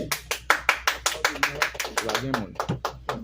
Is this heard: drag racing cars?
no